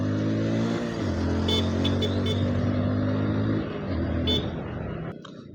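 Road traffic on a Bengaluru street near Varthur police station, a loud steady engine drone with a strong idling hum from a nearby vehicle, brief horn toots and revving, heard from close by on a motorbike.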